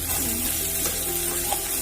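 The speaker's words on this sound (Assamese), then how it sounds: "পিঁয়াজ আৰু আদা ৰহুনখিনি ভালদৰে এনেকৈ ভাজি ল'লো।" Steady, close sizzling and crackling of onion, ginger and garlic frying in hot oil, continuous and even with no talking.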